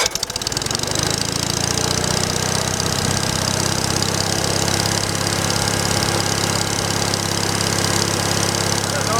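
A small engine, the same type fitted on a big-wheel machine, runs steadily just after starting with an uneven, rough idle; a loud, continuous mechanical drone close by, with no talk.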